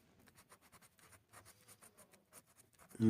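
Pen strokes scratching across paper in quick, steady bursts while a chemistry redox equation is worked out and balanced by hand, close and fairly quiet with no talking over it.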